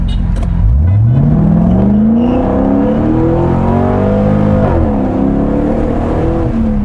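A Corvette C6 Grand Sport's engine revs hard and loud up close, the exhaust note climbing steeply, then holding and dipping and rising again in a sustained roaring pull with no talking.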